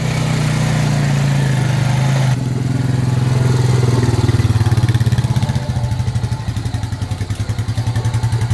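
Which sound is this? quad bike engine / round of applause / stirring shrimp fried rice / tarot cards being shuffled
quad bike engine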